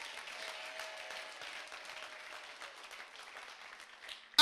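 Church congregation clapping, a soft, fairly distant wash of applause lasting a few seconds with a faint sustained tone underneath, fading toward the end.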